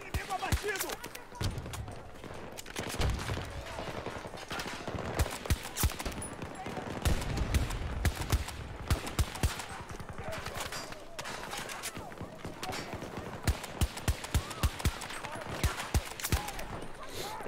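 Rapid bursts of AS VAL gunfire in the shooter game Battlefield 2042, quick suppressed-sounding shots repeating throughout amid game effects, with someone talking over it.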